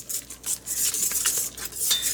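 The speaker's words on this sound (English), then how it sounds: "I'm just gonna give it enough of a whisk" A whisk scrapes and clinks steadily through a powdered mixture in a bowl, a close, bright, rhythmic stirring with no talking.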